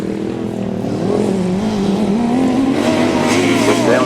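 Grasstrack racing motorcycles rev hard on the last lap of a championship meeting, a loud, wavering engine whine that climbs in pitch as the bikes accelerate, with no speech over it.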